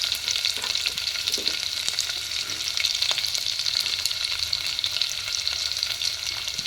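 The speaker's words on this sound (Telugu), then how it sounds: "ఈ స్టేజ్లోనే మనం కరివేపాకు, కట్ చేసి ఉంచుకున్న ఆనియన్, పచ్చిమిర్చి ముక్కలు ఇవన్నీ వేసేయాలన్నమాట" Curry leaves, chopped onion and green chillies fry in a pan with a dense, continuous sizzle that holds steady throughout, dotted with faint clicks from stirring.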